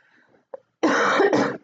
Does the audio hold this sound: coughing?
yes